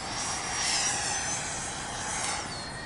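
Freewing F22 RC model jet airplane taking off outdoors on a hazy day, a steady high whining jet roar that swells slightly and holds at moderate distance, with no talking.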